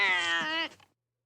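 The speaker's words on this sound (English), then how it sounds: "Canned cat noises, right?" A stock cartoon-style cat meow from an animated Disney film, one drawn-out, clear tonal cry lasting just over half a second before trailing off into silence.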